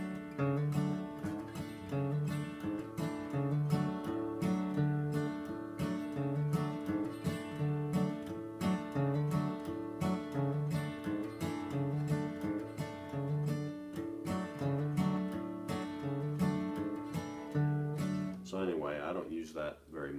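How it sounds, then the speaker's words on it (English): Acoustic guitar played in an alternating-bass pattern with a light thumping accent, steady and rhythmic with a regular low pulse beneath bright strums, ending in a brief scrape. "but with the little thump, it would sound something like this."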